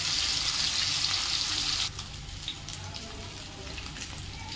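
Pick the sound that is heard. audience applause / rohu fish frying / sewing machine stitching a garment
rohu fish frying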